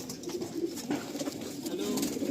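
Madrasi pigeons, a breeder pair, coo softly and steadily in a close, continuous low murmur with no talk over it.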